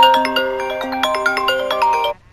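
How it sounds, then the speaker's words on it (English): An Android phone ringtone chimes a quick bright melodic pattern of bell-like tones, loud and clear, playing for about two seconds before cutting off abruptly. "why did I hear that Android ringtone in the background?"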